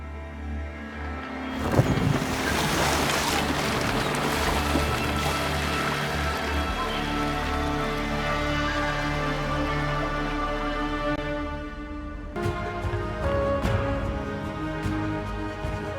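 A sailing boat on ocean waves in Assassin's Creed Valhalla: steady rushing water and hull wash with a broad, even roar, plus a soft musical bed and a brief swell near the end.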